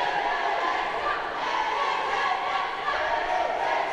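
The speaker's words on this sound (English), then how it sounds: "The crowd is really hyped right now." Boxing crowd at a 2019 SEA Games flyweight 52kg quarterfinal between the Philippines and Indonesia, a steady roar of cheering and shouting from a packed arena.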